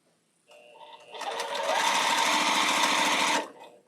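A sewing machine stitching through a Halloween quilt starts with a soft whir, then breaks into a loud, rapid mechanical chatter for about two seconds before stopping abruptly.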